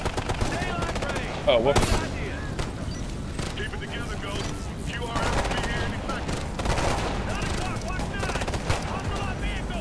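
Rapid semi-automatic DMR rifle fire in the shooter game Ghost Recon: Future Soldier, with dense bursts of gunshots and explosions running steadily throughout as a player talks over the battle.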